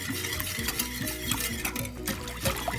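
A gelatin dessert mixture being whisked until smooth, with a continuous, rhythmic wet whisking and clicking against the bowl, close and steady throughout.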